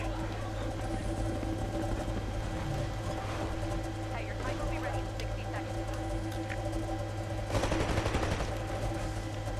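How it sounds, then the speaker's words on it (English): Bursts of assault rifle gunfire in a video game crackle over a steady mechanical hum and busy game noise, with the heaviest burst near the end. "I'm pulling out the fucking assault rifle."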